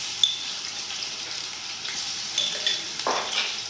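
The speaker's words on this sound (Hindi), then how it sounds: "इस तरह हमारा प्याज भी फ्राई हो जाएगा और लहसुन अदरक भी।" Chopped onion with a tablespoon each of garlic and ginger frying in a pan for peas pulao, a steady close sizzle with occasional stirring scrapes and pops.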